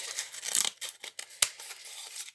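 Scissors cutting cardboard for a craft ship model, a close rustling crunch of snips and scraping blade strokes with one sharper snap, no talking.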